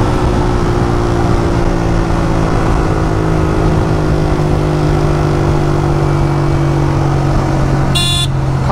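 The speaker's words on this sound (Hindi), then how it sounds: "अरे यार लग गई ट्रैफिक यहाँ पे भी।" Dense road traffic in Bangalore, a loud continuous rumble of engines and idling vehicles close by, with a sharp car horn blast near the end.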